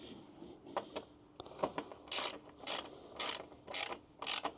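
A ratcheting tool tightens a screw on the screen mechanism of a Triumph Tiger 800 motorcycle, with faint clicks giving way to five evenly spaced bright ratchet strokes, close and quiet.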